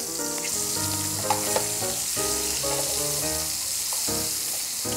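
Four scallops searing in a hot pan just after being flipped, a steady close sizzle with a few sharp crackles, no talk, behind tonal background music.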